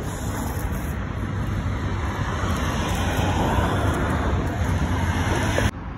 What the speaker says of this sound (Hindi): गाइस क्रेजी व्लॉगर को एक गाड़ियों का शोर सोने नहीं दे रहा है यार